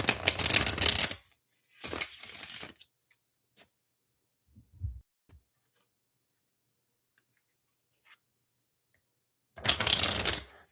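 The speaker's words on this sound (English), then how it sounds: "The playing cards are much easier to shuffle" A thick tarot deck is riffle shuffled in three bursts of dense, rapid card flutter, close-up, with quiet pauses and a few soft taps between them.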